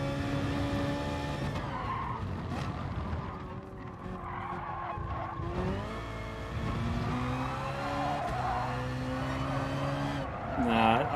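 A BMW Z4 race car in GT Sport skids through a corner, tires squealing in long wavering howls over a strained, shifting engine note, loud and close throughout, with a brief rev near the end; someone speaks over it.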